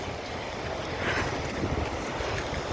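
Strong wind roars against the microphone over the steady wash of heavy waves at the Giant's Causeway coast in rain, a continuous loud blustery rush with no voices.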